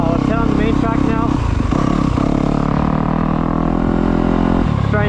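Yamaha YZ250F four-stroke motocross bike ridden on the Creekside MX track, engine loud and close with rising and falling revs through gear changes, a voice talking over it.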